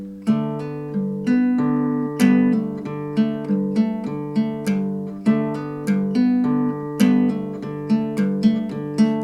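Acoustic guitar chords strummed in a steady two-bar pattern, ringing harmonics with regular rhythmic attacks, played alone and close with no talking.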